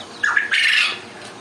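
A single bobwhite quail gives a short, sharp squawking call, a brief two-part note lasting under a second, close and clear over quiet background with no speech.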